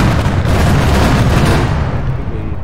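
Heavy, continuous rumbling barrage of gunfire and explosions in Arma 3 on Stratis, loud and dense throughout with no distinct individual shots.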